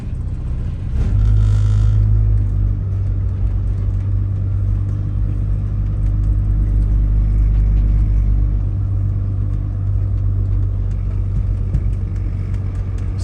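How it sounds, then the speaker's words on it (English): A Ford car with a newly installed 9-inch rear axle third member on a test drive: a low, steady engine rumble with a constant drone, close to the microphone and continuous throughout. "we're gonna give it a test drive"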